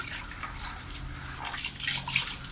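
Sand being rinsed in water before planting bulbs, a steady close wash of sloshing and running water with small splashes throughout, on the seventh rinse as the water starts to clear.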